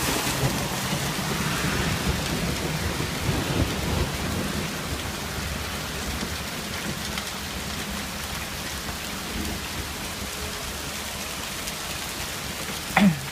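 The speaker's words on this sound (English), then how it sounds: "There's actually quite a lot of thunder and lightning." Dense rain mixed with falling hail during a springtime thunderstorm in Vestal, New York, a continuous close hiss with deep thunder rumbles in the first few seconds and a sharp knock near the end.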